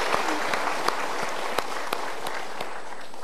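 A seated audience at a motivational talk bursts into steady, dense applause that fills the whole stretch, loud and close, with a few sharper individual claps standing out.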